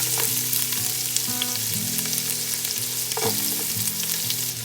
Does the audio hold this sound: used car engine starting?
no